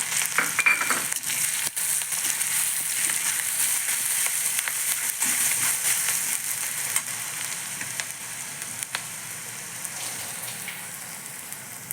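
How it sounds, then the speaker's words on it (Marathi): Mustard seeds, cumin and a garlic-green chili paste sizzling in hot oil for a shepu bhaji, with a bright, dense crackle and sputter close by that eases slightly toward the end, no talk. "मोहरी लागली नाचायला आता त्यात टाकू जिरे आणि भरपूर टाकू त्याच्यामध्ये लसण आणि मिरचीचा ठेचा"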